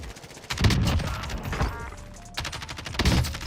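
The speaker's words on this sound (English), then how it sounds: "I think there's a team sniping at this other hill as well" Rifle gunfire in the Call of Duty Warzone battle royale: several sharp shots spaced about a second apart, moderately loud, with crackling echo and no talk between them.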